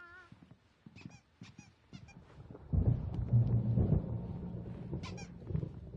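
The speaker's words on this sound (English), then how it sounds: "There's a storm coming. Oh, what a storm." Thunderstorm in the video game Alan Wake: after a few squeaky chirps and soft knocks, a deep rolling rumble of thunder swells and then slowly fades.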